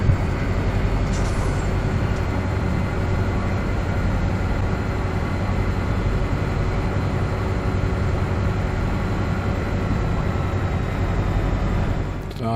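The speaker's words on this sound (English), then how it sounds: "See how much trouble I have getting the train loaded up." A steady, loud rumbling drone of a train in Farming Simulator 17 runs unbroken throughout, with no voices over it.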